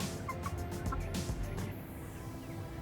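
Rhode Island Red hens, about three and a half months old, call from inside a shed, giving a few faint, scattered vocalizations over a low, steady background.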